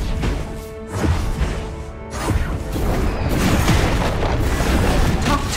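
Booms, crashes and impact hits from a Wild Rift match while a bottom turret is under attack, dense overlapping combat effects at steady loudness with a sharp burst near the start and no talk.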